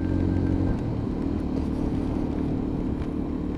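A Lexmoto Assault 125cc motorcycle rides on a wet road, its engine holding a steady droning hum with road and tyre noise beneath, slightly louder at the start before settling.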